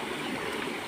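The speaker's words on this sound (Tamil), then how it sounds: "வேலை சைட்டில் அவள் விளையாண்டுட்ருக்கா பாருங்கள் அந்த தண்ணியில்" Steady splashing and trickling water as a young girl plays in water at a work site, the sound continuous and fairly close with no talk over it.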